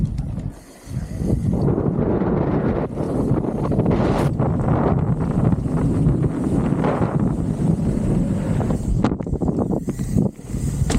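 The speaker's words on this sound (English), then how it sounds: "Quite windy now, It's a bit windy down there" Strong wind buffets the microphone on a big mountain bike course, a loud, continuous roaring rush with gusty swells and brief dips, with no talking over it.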